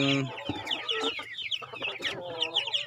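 Broiler chicks peep in a busy, continuous chorus of high, overlapping chirps with some louder clucking, close by and without talk.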